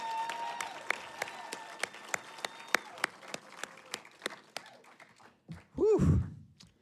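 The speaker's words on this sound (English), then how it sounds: "each and every last one of them deserves your applause." Sparse applause at a January graduation ceremony honoring graduates: a thin run of distinct, evenly spaced claps that grow scattered and fade, followed by a single breathy vocal exhale near the end.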